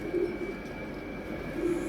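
Pigeons coo steadily in a loft, a low repeated cooing that swells at the start and again near the end, with soft rustling and ambient hum underneath and no talking. A young pigeon has been placed in the males' section.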